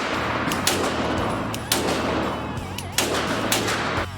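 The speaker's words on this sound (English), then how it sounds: "This gun is very fun to shoot, though." Glock pistol being fired at a range, with several loud shots spaced unevenly over a steady, dense background roar, each report a sharp crack with echo.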